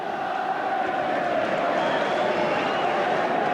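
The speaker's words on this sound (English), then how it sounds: "The sound of the crowd tells the story here. Jubilation at Old Trafford." Football crowd at Old Trafford roaring in jubilation, a broad, steady wall of distant cheering that holds without break.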